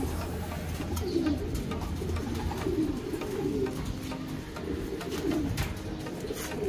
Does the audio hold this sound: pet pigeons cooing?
yes